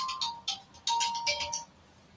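A mobile phone rings in a few short melodic chimes close by, fairly quiet and with no talk over it.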